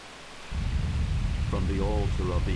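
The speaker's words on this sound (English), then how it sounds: "It's raining like hookers and blow out there" A Grandia 2 video game storm: a steady rush of heavy rain and thunder rumble kicks in abruptly after a brief quieter moment, later joined by a tonal voice-like sound over the downpour.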